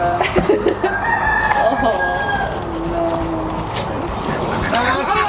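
Rescued ducks at an animal sanctuary for dairy industry survivors give short, repeated calls close by while people chat over them.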